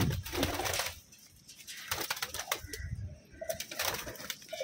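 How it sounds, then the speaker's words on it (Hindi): Madrasi pigeons, a flock of fifteen, cooing in soft repeated low calls at close range, with occasional brief wing flutters and movement noise in the loft. "15 टटीरे कबूतर हैं, 15 की 15 मद्रासी हैं।"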